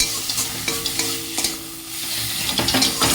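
Okra jhal with mustard paste fries in a pan, a close, busy sizzle broken by quick scraping strokes of a stirring spoon, with no talk.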